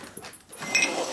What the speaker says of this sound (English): What a good guard dog.